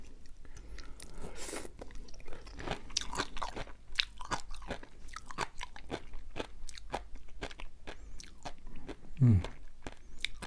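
Crunchy sea grapes eaten close to the mic during a mukbang, with a rapid series of crisp bites and wet chewing crunches in uneven rhythm throughout.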